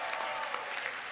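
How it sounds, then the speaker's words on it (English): Audience applause fills a banquet room at the White House Correspondents' Dinner, a dense, steady wash of clapping, fairly close and sustained throughout with no voices over it. "Yes, you are cheering."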